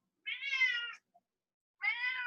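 Two long, loud meows from a pet cat indoors, close to the microphone and separated by a pause of nearly a second, with no talking over them.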